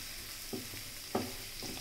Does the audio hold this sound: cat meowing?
no